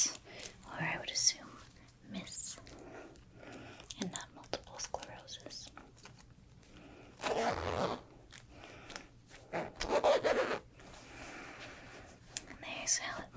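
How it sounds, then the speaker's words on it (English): A zipper is worked on a crinkly polyester jacket, with several short bursts of zipping and rustling close to the microphone between quiet handling sounds. "This one has an interesting zipper."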